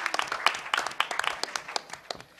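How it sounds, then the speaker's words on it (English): A small crowd at a hacker conference gives a round of applause, scattered claps sounding close and uneven for a couple of seconds, with a murmur of voices mixed in. "I think it's a round of applause for everybody standing up out there."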